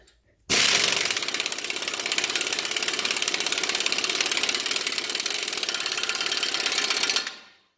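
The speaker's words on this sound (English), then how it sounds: "Now that we got the joint greased, we can reinstall our axle nut." A power ratchet or impact tool runs continuously for about seven seconds, reinstalling a car axle nut after a lower ball joint is replaced. It is a loud, rapid mechanical rattle that starts abruptly and then winds down.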